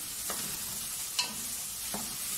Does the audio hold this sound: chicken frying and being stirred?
yes